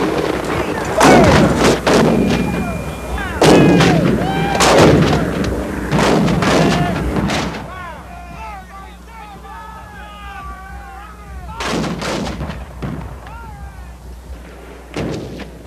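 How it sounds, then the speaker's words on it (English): Civil War artillery cannonade of about 80 guns, heavy booming blasts repeating in irregular bursts, loud and close, with a narrator speaking over and between the shots. "The Federals respond with an 80-gun cannonade."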